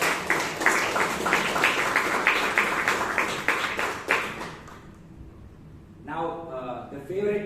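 An audience at a Toastmasters meeting in Bangalore claps in a steady patter of applause for a speaker, fading out after several seconds before a voice begins speaking.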